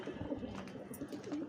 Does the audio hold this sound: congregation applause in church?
no